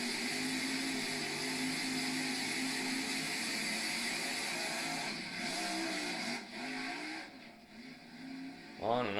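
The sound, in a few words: 1938 Chevrolet drag car engine revving on and off throttle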